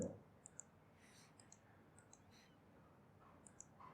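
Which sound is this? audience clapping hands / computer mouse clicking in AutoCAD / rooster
computer mouse clicking in AutoCAD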